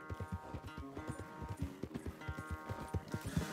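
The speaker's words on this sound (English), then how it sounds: "Where's that big, mean horse?" A horse's hooves clip-clop in a quick, steady rhythm on a farm, close and fairly loud, with occasional tonal noise from the animal alongside the footfalls.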